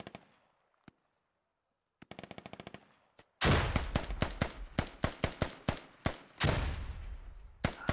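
Gunfire in the military shooter Squad: sparse isolated shots, then rapid automatic bursts and heavy overlapping fire with sharp loud cracks and several separate volleys, building into a dense firefight.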